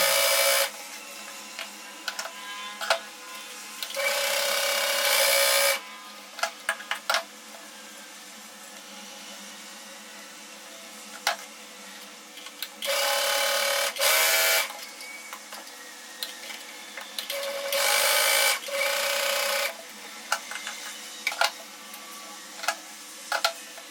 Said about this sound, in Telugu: ఇప్పుడు మనము స్ట్రైట్గా స్టిచ్ చేసేసుకున్నాం